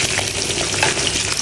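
Onions, garlic, ginger, galangal and candlenuts sizzle and crackle in hot oil, a dense, steady frying hiss with scattered pops, close up.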